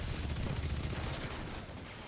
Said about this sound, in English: Being shot from the side